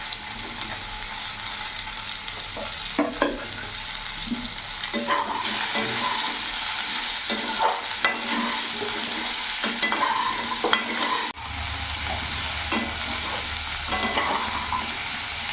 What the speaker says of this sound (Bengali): ভালো করে নাড়াচাড়া করে নিয়েছি।